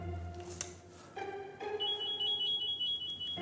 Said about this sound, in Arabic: الله، ده التليفون بيرن